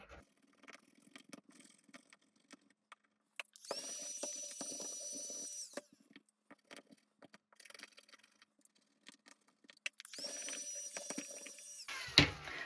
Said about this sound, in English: scratching off the red and then turning it into this light background, there's something really satisfying about that